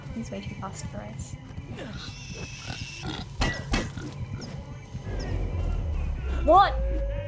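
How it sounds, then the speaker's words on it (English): Pig in the video game Far Cry 5 grunting and oinking in short bursts amid game effects, with people talking over it. "The pig."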